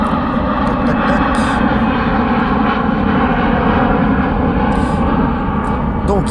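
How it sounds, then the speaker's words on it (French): A propeller airplane drones steadily overhead, loud and continuous throughout, with a faint voice briefly audible near the end. "j'attends que l'avion passe comme d'habitude."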